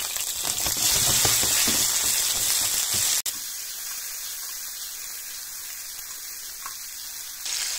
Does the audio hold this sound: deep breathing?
no